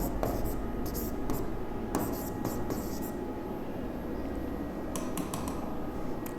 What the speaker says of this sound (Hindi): तो यही बात हम यहाँ पे लिखेंगे